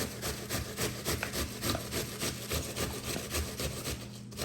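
Cabbage rubbed against a hand grater for homemade coleslaw, a steady run of close, rhythmic rasping strokes roughly every half second, with no talking.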